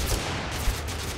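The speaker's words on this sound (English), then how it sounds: "He's got like an MG or something." Machine gun fire in the TABS battle royale game, a short rattling burst of rapid shots, moderately loud and alone, with no talk over it.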